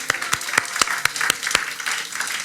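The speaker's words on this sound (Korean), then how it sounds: "한 박수로 환영하겠습니다" Church congregation applause, a steady wash of many hands clapping with a few sharper individual claps standing out, moderately loud and continuous.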